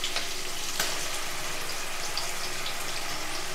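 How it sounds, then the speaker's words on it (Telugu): Ginger garlic paste frying in a pan while making crab dum biryani, an even, continuous hiss of oil with light spitting crackles, close up and without speech. "అలాగే అల్లం వెల్లుల్లి పేస్ట్ కూడా వేస్తున్నానండి."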